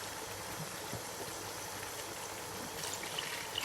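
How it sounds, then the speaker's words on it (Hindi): Water poured into a pot of rice for cooking makes a faint, steady trickle against a low background hum, with a slightly louder splash near the end and no talking. "अब मैं इसी के हिसाब से मैं 4 गिलास पानी इसमें डालूँगी।"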